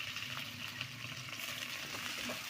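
Onions hit hot oil in a pan already holding cumin seeds and a bay leaf, giving a soft, steady crackling sizzle with light popping, close but fairly quiet, no voices.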